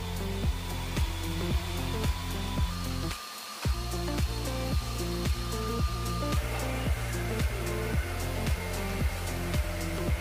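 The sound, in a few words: upright vacuum cleaner running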